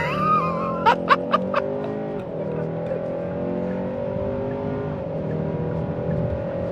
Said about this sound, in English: as usual, we'll do a full throttle acceleration.